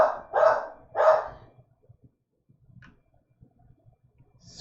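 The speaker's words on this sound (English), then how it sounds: "Sorry about the dog, everyone." A dog barks three times in quick succession, fairly close indoors, followed by quiet room tone with faint ticks and another bark starting at the very end.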